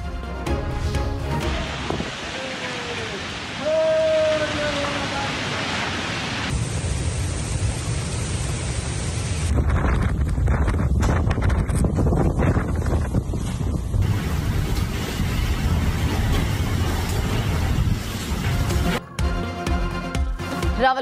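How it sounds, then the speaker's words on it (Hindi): A sudden storm over Rawalpindi and Islamabad brings strong gusting wind and heavy rain, a dense continuous roar with microphone buffeting, shifting abruptly between outdoor shots and staying loud throughout. "बादल अचानक आए और तेज आंधी के साथ बरसे।"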